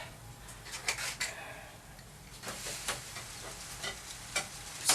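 Wooden instrument side heat-bent on a hot bending form: quiet, steady sizzling and hissing close by, with scattered soft crackles and a few faint knocks, no talk.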